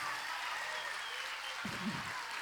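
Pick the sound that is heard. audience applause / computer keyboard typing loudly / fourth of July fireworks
audience applause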